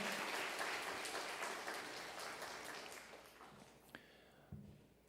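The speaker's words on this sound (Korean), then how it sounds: "우리 박수로 환영하겠습니다." A church congregation at a Sunday afternoon worship service claps to welcome a first-time attendee, a soft, distant patter of applause that fades out over a few seconds.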